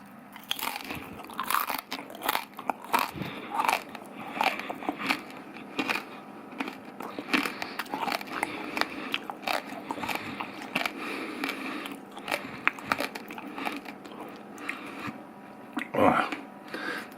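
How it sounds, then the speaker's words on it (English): Crispy pork knuckle crackling being bitten and chewed, a long run of sharp crunches and crackles close up, with brief talk in places. "super crispy, not tough to chew, just crunches open in your mouth"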